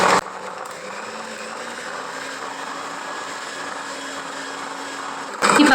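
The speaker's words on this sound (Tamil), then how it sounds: "சன்ஃப்ளவர் ஆயில் சேர்த்து கொடுத்துட்டு இப்போ ஒரு 3 நிமிஷத்துக்கு மட்டும் பீட் பண்ணிக்கோங்க" An electric beater whirs continuously as it beats sugar and sunflower oil for a milk cake, a steady close motor hum framed by brief clattering bursts at the start and end.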